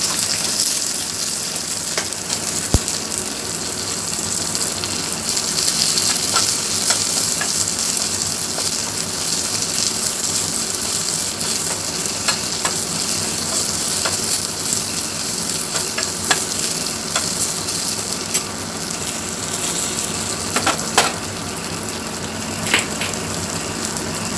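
Onions sauté in oil in a pan with cinnamon and chili, giving a steady, close sizzle throughout, broken by occasional scrapes and clicks of stirring.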